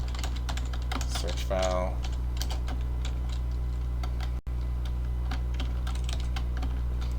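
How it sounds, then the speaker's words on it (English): Typing on a computer keyboard during a JavaScript programming lecture, rapid light clicking keystrokes throughout over a steady low hum, with a brief spoken word early on. "I'm hitting Shift Enter whenever I want a new line"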